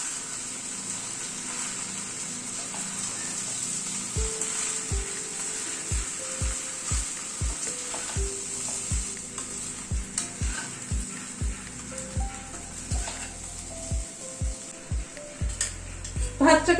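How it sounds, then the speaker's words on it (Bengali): Cooked rice being mixed through vegetables and spices in a pan for a one-pot meal, with steady sizzling and repeated close scraping strokes of a spoon against the pan that grow quicker and louder toward the end. "এবার ভাতটাকে মিশিয়ে নিচ্ছি।"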